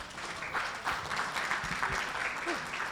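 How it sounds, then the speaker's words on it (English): A quiet, steady round of clapping from a conference audience for a presenter, a soft continuous patter with faint voices murmuring underneath. "Please give him a big clap."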